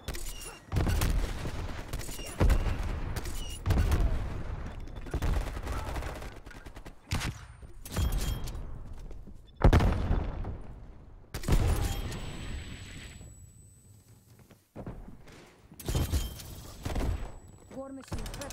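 Bursts of gunfire and explosive launches from the War Machine grenade launcher in Call of Duty: Black Ops Cold War, repeated punchy blasts in quick succession with a voice speaking over parts of the action.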